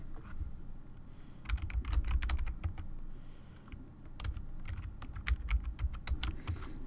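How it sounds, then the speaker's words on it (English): Fingers typing a username and password on a computer keyboard, bursts of quick, close, clicky keystrokes with short pauses between, no talk. "type in your MATC network username and password like so"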